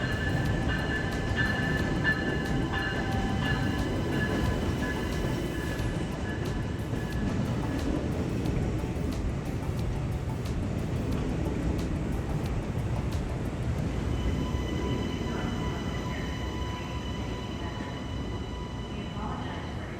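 An Amtrak Next Generation Acela high-speed train sits humming at a station platform with a steady rumble, hiss and faint tonal whine, while muffled voices and wind noise blend in.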